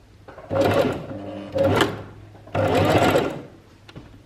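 A sewing machine runs a back stitch in three short bursts of sewing, each about a second long with brief pauses between, close and loud with no talking.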